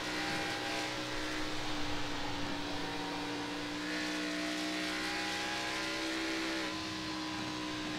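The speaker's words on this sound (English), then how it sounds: "listen to his throttle here to see what was going on inside that car" A race car engine in the iRacing sim at Darlington holds a steady high-pitched drone at sustained throttle, loud and continuous, with faint tire and road noise underneath and no talking.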